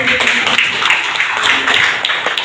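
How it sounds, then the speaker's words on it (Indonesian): A crowd at a community PKK event in Pondok Cabe Ilir claps steadily for a couple of seconds, a fairly loud, even patter of hands with faint voices underneath. "Boleh tepuk tangan yang meriah."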